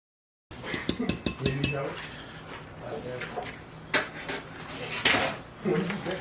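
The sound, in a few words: mixing Korean barbecue sauce for jackfruit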